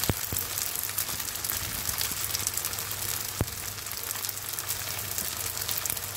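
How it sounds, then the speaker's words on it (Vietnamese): Leftover rice fries in oil over medium heat until golden, giving a steady, dense sizzle and crackle that holds evenly throughout with no talking. "mình sẽ chiên cái bề mặt còn lại cũng vàng nha các bạn"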